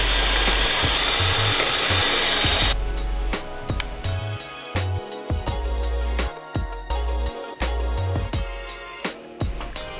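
An electric hand mixer on low speed blends butter and flour for a strawberry cheesecake crust. A loud, steady whirring drone comes first, then the beaters rattle and knock irregularly against the bowl as the mixture thickens, with no talking.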